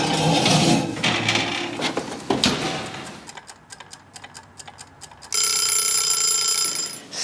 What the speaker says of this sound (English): So the timer just went off.